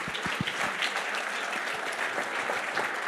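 Audience applause at an annual benefit event, a full crowd clapping steadily with a few sharp individual claps near the start, sustained and even throughout.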